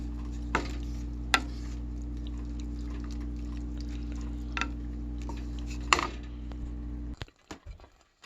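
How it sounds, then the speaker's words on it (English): A spoon stirs sugar into a thickening rice and milk pudding in a pot, giving a few sharp scattered taps and scrapes against the metal over a steady low stove hum, ending in louder clatter. "Once the rice and milk start thickening up, I pour in the sugar and mix it in really good."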